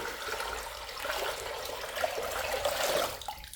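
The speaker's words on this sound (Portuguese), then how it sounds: "Aqui eu vou acrescentar 15 litros de água em temperatura ambiente, água da torneira" Room-temperature tap water runs steadily into a large jug or bucket, a continuous close rushing pour with no talk over it.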